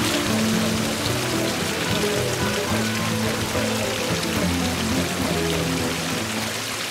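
Spring water flows continuously down a misty hillside in Spain, a steady close splashing and pouring with no pauses and no voices.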